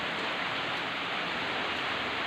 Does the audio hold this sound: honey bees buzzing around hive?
no